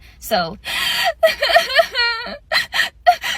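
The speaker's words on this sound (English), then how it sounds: "With the crying, it's more of 2 to 3, sharp inhales, half out, and then you inhale sharply again." A person close to the mic demonstrates crying-style breathing without real emotion: a few sharp, gasping inhales broken by short half-exhales, mixed with brief talking.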